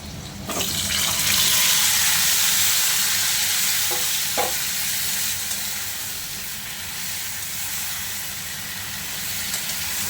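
Cauliflower pieces hit a pan of frying potatoes for a Bengali doi fulkopi, setting off a loud, steady hiss and sizzle, with a couple of brief utensil clinks partway through.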